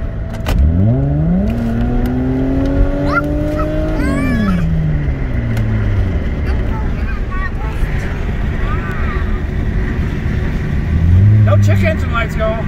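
V6 Toyota Camry kicking down and accelerating hard, engine note climbing steeply in pitch, easing and dipping, then surging again near the end, heard from inside the cabin with wind and road noise and people talking.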